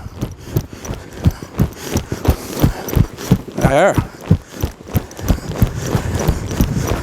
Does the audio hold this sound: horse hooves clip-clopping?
yes